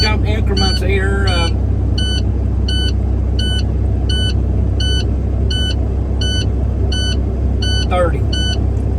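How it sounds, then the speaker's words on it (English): A dump truck engine idles with its idle raised, a steady low rumble running throughout, while a rapid series of evenly spaced electronic beeps repeats over it for most of the clip. "Now I'm going to go ahead and set the idle up on this."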